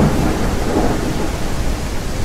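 Thunderstorm in a zombie survival video game: a dense, continuous roar of heavy rain with deep rolling thunder filling the low end, steady and loud throughout with no voices.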